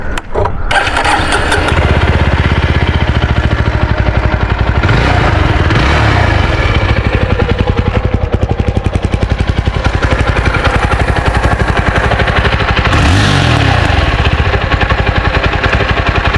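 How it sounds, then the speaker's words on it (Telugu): A Jawa 42 FJ motorcycle runs loudly up close, its engine and cooling fan giving a steady, rough, pulsing roar that holds for the whole stretch. "మీరు వినండి ఫ్యాన్ స్పీడ్ ఎంత గట్టిగా వస్తుందో"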